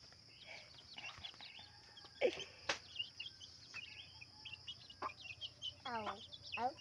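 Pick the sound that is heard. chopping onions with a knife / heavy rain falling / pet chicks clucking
pet chicks clucking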